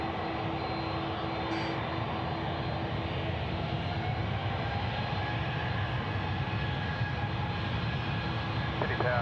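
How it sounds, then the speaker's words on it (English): A Jetstar jet airliner departing Sydney Airport at night, a continuous moderate engine rumble with a faint whine, heard at some distance and holding steady throughout. "The Jetstar getting out ahead of the A330."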